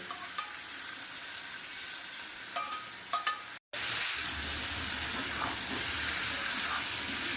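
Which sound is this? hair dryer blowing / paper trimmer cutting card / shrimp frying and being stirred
shrimp frying and being stirred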